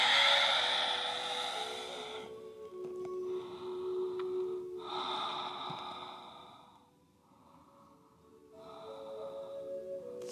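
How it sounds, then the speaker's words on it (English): Long exhales during a morning yoga flow, breathy airy rushes close to the mic separated by short quieter pauses, with no talking. "Exhale, fold."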